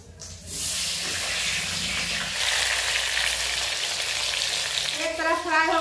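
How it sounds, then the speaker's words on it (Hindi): Banana slices drop into hot oil in a pan after an egg has been fried, bursting into a loud, steady close sizzle and hiss that runs to the end. "अंडा फ्राई हो गया तो हम केला फ्राई करेंगे"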